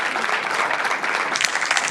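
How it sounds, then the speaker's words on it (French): Audience at a comedy show claps loudly in a dense, steady roar of applause for the full two seconds, with no talking over it. "On applaudit."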